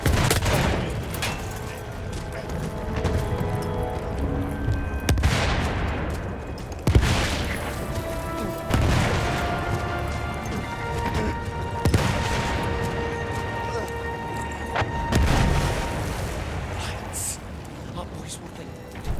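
Machine gun fire in Battlefield 1, repeated bursts and booms of battlefield gunfire across the clip, mixed with voices talking.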